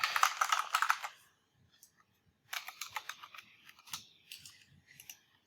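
Keys clatter as a course ID is typed on a computer keyboard, one quick burst at the start, then a pause, then a second longer run of irregular, close taps.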